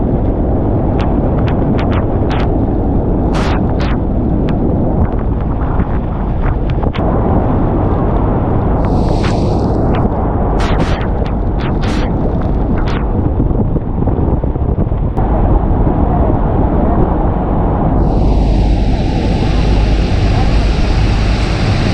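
Strong wind buffets the microphone throughout on the Hornblower boat cruise at Niagara Falls, a steady loud roar with brief gusty bursts and a hissing rush of mist near the end.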